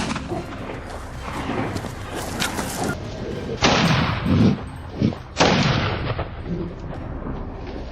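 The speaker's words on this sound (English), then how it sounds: "Without hesitation, I held my breath and took the shot." Rifle gunshots ring out during a wild boar hunt on a Texas farm, with several loud booming reports over a noisy outdoor background.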